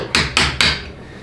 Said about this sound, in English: just to put it down with the hammer, and that destroys the tabs so that you can easily pull it out